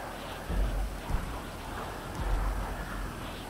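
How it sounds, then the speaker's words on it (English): Steady rain with low rumbles of thunder from a Grand Theft Auto V storm on Xbox Series X, a constant wash of falling water with a couple of deeper swells, no voices over it. "I like this rain effect. It's real nice."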